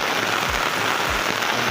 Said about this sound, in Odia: ଇଏ ହେଉଛି ବର୍ଷା ଦେଖ ପାଣି ଆଜି ପଡ଼ୁଛି